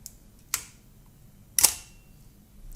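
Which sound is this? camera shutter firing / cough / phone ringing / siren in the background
camera shutter firing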